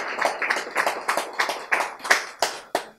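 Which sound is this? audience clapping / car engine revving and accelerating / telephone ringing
audience clapping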